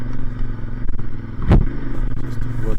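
A Yamaha MT 450 motorcycle ridden hard on a rough off-road rally trail, its engine droning steadily up close with a sharp burst of clatter or impact midway through.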